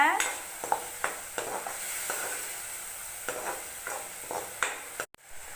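Onion paste sizzles and hisses steadily in a hot pan while a utensil scrapes and stirs at irregular intervals.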